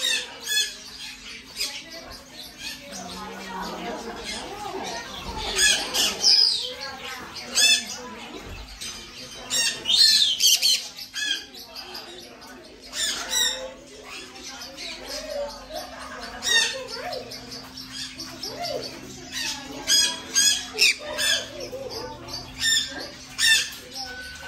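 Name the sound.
pet bird squawking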